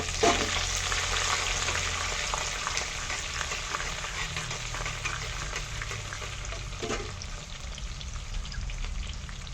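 Mustard seeds and finely chopped onion sizzle steadily in hot oil for a tempering base for brinjal fish curry, a dense continuous frying crackle with occasional stirring, close and alone with no talk.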